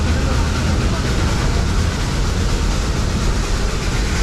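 A train on a replica 1800s logging railroad in the Santa Cruz redwoods rumbles loudly and steadily, with a continuous roar of wheels on track close by.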